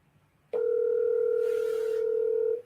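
A telephone dial tone sounds as a call is placed: one steady, clear, unbroken tone lasting about two seconds that stops abruptly, with no voices.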